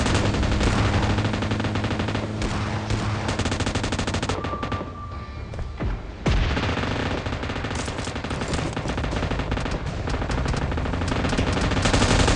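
Sustained automatic gunfire from the mobile battle-royale game PUBG Mobile, loud and continuous with rapid bursts, a brief lull in the middle before the heavy firing resumes.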